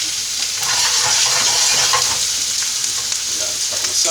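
Shrimp dropped into a hot pan with browning onion and pepper hiss in a loud, dense, continuous sizzle, close up, with faint scraping and shuffling as the pan contents are moved.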